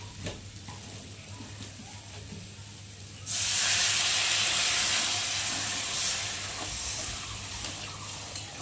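Water poured into a pan of fried masala and potatoes sets off a sudden loud burst of steamy hissing sizzle that holds steady, then eases slightly, after a quieter stretch of low frying.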